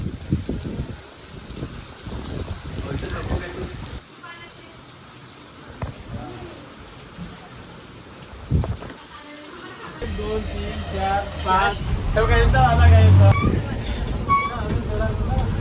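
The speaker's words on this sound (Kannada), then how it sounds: "2 ಮಿನಿಟಿಗೆ ಮಳೆ ಬರ್ತದೆ, ಮತ್ತೆ ಕಮ್ಮಿ ಆಯ್ತು, ಮತ್ತೆ ಮಳೆ ಬರ್ತದೆ" Rain falls at the Bhimashankar Jyotirlinga temple, a steady patter that swells to a heavier hiss partway through, with a crowd's babble and nearby voices mixed in.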